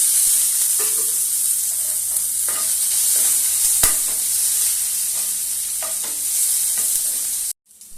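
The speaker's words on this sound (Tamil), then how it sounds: "இப்போ நான் ஒரு கடாய் வச்சு எண்ணெய் ஊத்திருக்கேன். வெங்காயம், கருவேப்பிலை," Onion, curry leaves and tomato fry in oil in a kadai with a steady close sizzle. Scraping stirs come at intervals, and the sound cuts off abruptly near the end.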